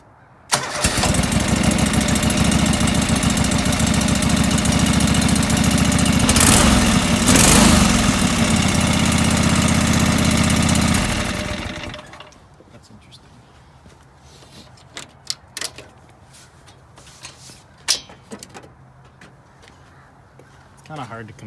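A John Deere 425 lawn tractor's small engine runs loudly and steadily with a throbbing idle, then cuts off abruptly, leaving a quiet background with scattered clicks and faint knocks.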